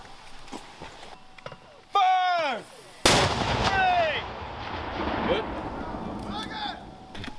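A mortar fires during live-fire military training at Camp Ripley, a single sharp, loud blast with a rolling decay, surrounded by shouted commands from the crew.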